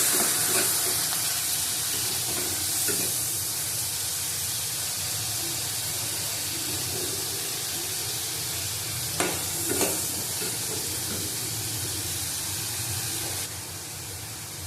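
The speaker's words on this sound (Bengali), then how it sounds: "দিয়ে দেবো পেঁয়াজ বাটা, ভালো করে কষিয়ে নেব।" Onion paste stir-fried in a pan for an okra and potato dish with shrimp: a steady low sizzle with scattered scraping clicks from stirring, moderately quiet and without talk.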